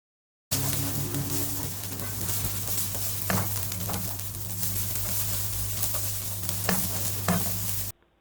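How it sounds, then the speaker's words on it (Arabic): Basmati rice being stirred in a pan with oil and spices, a steady soft sizzle and frying crackle with occasional scraping knocks of the spoon, close and continuous with no talking. "اضيف الرز، هقلب، ولو انا غسلت الرز يبقى هقلب كتير لحد ما الاقي ان الميه اللي كانت موجوده اتبخرت"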